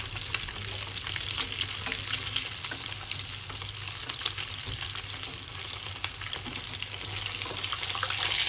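Fish deep frying in hot oil at home gives a continuous, dense bubbling sizzle, steady and fairly loud throughout with no voices.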